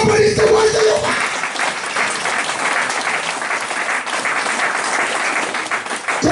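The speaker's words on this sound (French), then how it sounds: "Applaudissez-moi" Church congregation breaking into loud, dense applause that fills the whole stretch evenly, a continuous roar of many hands with a brief voice at the very start.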